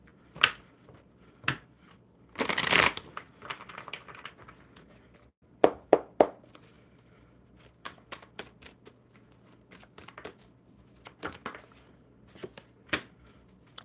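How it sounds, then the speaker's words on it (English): A deck of tarot-style cards is shuffled up close, with sparse crisp clicks and snaps and one longer riffling burst. Short pauses separate the handling sounds, and no one talks. "One more good shuffle."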